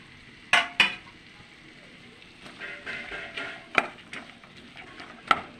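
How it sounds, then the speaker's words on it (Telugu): Ivy gourd pieces tossed into a pan of fried onions and tempering spices, with soft frying and stirring under a few sharp clinks of a utensil against the pan. "దొండకాయలు వేసేద్దాము."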